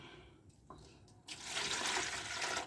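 Water is poured for an herbal cough remedy, a brief trickle followed by a steady, louder splashing pour that runs for over a second, close and without talk.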